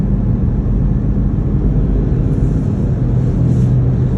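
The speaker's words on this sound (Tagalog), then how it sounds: "Yan, medyo dumadami-dami na ang sasakyan." Steady, loud road rumble and tyre noise from inside a moving car, with passing traffic blending into a continuous low roar and no one talking.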